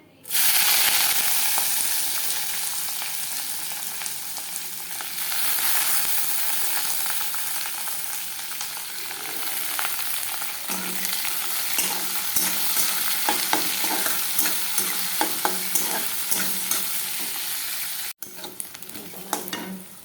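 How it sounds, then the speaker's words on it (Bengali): Chopped onions hit hot oil with bay leaf in a pan, producing a loud, dense sizzle that flares up and carries on with scattered scraping and clinking stirs before cutting off near the end. "কুচানো পেঁয়াজটা এখন দিয়ে দেবো।"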